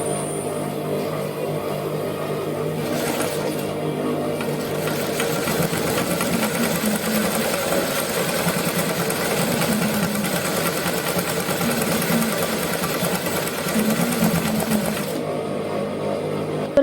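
Steady, continuous whir of a sewing machine embroidering a flower onto a tablecloth, a close, even mechanical hum with a fast rattling stitch that runs without pause throughout.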